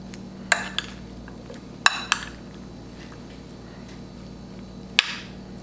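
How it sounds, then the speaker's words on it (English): Utensils clink against a bowl while a green salad with sweet tomato is tossed, a handful of sharp, bright taps and scrapes scattered over a quiet kitchen hum. "And then I will mix everything up."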